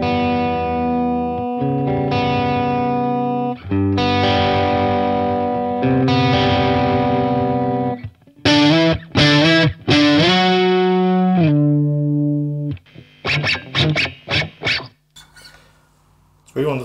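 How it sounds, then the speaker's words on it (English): Electric guitar run through a BOSS DS-1 distortion pedal, playing sustained distorted chords and then bright, squealing high notes with sharp attacks, loud and close with no talking. "It's really one of those pedals that seems to exaggerate the squeakiness of the strings."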